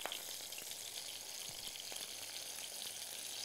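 Goat cheese samosas fry in hot oil, giving a faint, steady fine sizzle with small pops scattered throughout, heard on its own.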